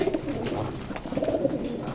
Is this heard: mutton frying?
no